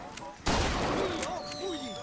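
Gunfire in the video game BioShock Infinite: a short burst of sharp shots lands abruptly after a brief lull, followed by ringing electronic tones and game effects, loud and close.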